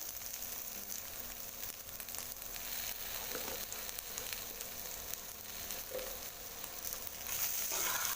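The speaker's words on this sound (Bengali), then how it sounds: "জিরের গুঁড়োটা দেওয়ার পরে একটু ভালো করে নাড়াচাড়া করবো" Turmeric and cumin powder sizzling in oil in a pan, a continuous close hiss of frying with faint stirring scrapes underneath, steady throughout and slightly louder near the end.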